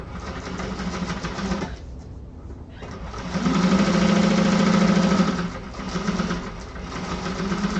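A sewing machine stitches a bag lining in bursts, a close, even mechanical whir that stops and restarts, louder in its middle run.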